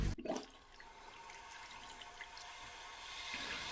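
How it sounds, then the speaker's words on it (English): A toilet tank refills after the water supply is turned back on, opening with a short thump and then a steady, faint hiss of rushing water that builds gently toward the end. "it won't take too long and this tank will be filled back up with water"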